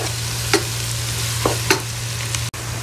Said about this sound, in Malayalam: നല്ല ബ്രൗൺ കളറാവുന്നത് വരെ ഉള്ളിനെ നമ്മൾ വഴറ്റിക്കൊണ്ടേയിരിക്കണം